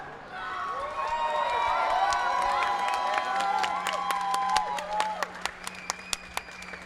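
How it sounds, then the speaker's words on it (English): A gamescom studio audience applauds and cheers, steady clapping that thins out toward the end into a few scattered, distinct claps. "This is your applause."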